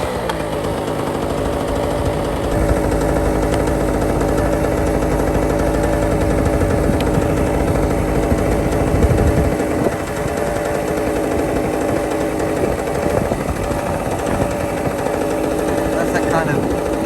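A generator salvaged from a dump runs without choke in a continuous, steady mechanical drone, loud and close, while a voice talks over it now and then.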